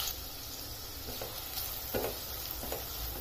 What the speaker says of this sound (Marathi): आता यात टाकते मी हा एक मोठा बारीक चिरलेला कांदा